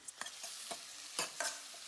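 Chickpeas, carrot and potato are stirred in a pan, with a run of distinct scraping and clattering strokes over a soft continuous sizzle.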